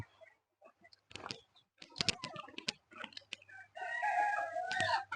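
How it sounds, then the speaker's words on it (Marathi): Free-range village chickens perched in a tree cluck in short, scattered bursts, then a rooster lets out a long, loud crow near the end over a faint low hum. "झाडावर बसलेल्या कोंबड्या बघा"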